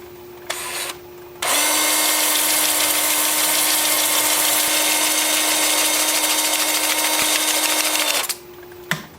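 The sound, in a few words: wood lathe running in reverse, turning a cherry plum bowl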